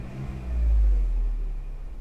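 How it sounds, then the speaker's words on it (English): A Jeep JK with a 3.6 Pentastar engine and aFe intake, heard from inside the cab, revs once in a low rumbling swell that rises and eases back toward idle. "And then when I rev it a little bit,"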